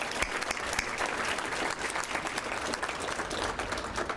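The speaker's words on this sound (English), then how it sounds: "let's give them a round of applause too" An audience at the Leaders of Tomorrow Gala gives a sustained round of applause, a dense, even wash of many hands clapping throughout, fairly distant and without talk.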